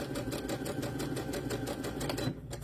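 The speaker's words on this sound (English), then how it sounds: "I do a running stitch." A sewing machine runs a running stitch on a shirt neckline, its rapid, even needle rhythm loud and close, continuing steadily before easing off near the end.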